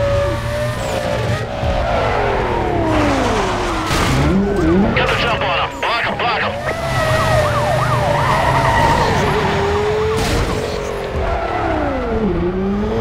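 Police sirens wailing during a pursuit in the PC racing game Need for Speed: Most Wanted, with sweeping siren tones layered over loud engine roar and music, continuous and close throughout.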